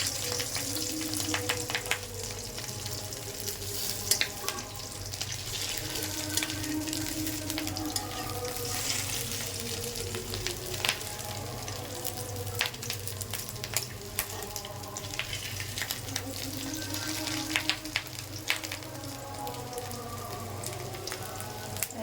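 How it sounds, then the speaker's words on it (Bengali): Fish roe fritters sizzle steadily in hot oil, a continuous crackling fry with scattered pops, fairly quiet and close, with no talking. "এইরকম মাছের ডিমের বড়া ভাজবেন।"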